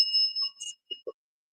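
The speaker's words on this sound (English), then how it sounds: "if you click the bell to say yes" A bell rung during a paranormal investigation, heard as a bright sustained ding with a short ringing tail, followed by a couple of soft clicks before the room falls silent.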